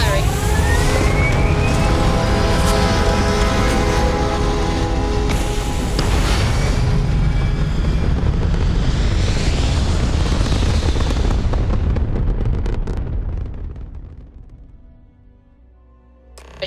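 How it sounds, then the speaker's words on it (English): Spaceship thrusters fire in the game Starfield, a loud, dense roaring blast that holds steady for many seconds before fading away into near quiet. "All thrusters firing."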